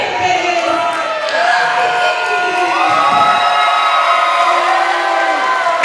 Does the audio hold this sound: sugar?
no